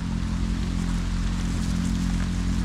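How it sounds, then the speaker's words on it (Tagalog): Rain falls steadily outdoors during eel hunting in murky floodwater, making a dense, even patter with a heavy low rumble. There is no talking. "At umuulan na."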